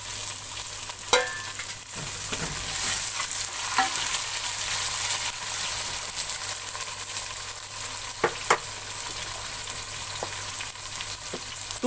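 Tomatoes and garlic paste fry in a pan for a Pakistani aloo gosht, giving a steady close-up sizzle with occasional clinks and scrapes of stirring and no speech.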